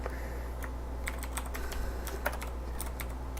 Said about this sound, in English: I know I type fast